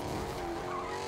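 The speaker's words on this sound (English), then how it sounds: "I'm using the new Nitro Fang car." The new Nitro Fang car in a video game, driving through Eclipsed Estate with a steady engine roar and continuous tire skidding, loud and unbroken throughout.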